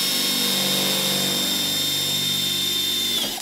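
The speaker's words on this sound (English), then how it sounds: "So I'm just going to drill into the bottom with my half-inch drill bit" A power drill with a half-inch bit bores into the bottom of a DIY simulator button panel board, a loud, steady, close whine running continuously before stopping abruptly at the end.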